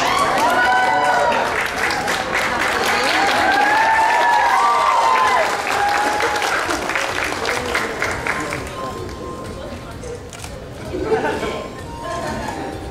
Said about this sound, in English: Well, one more big round of applause.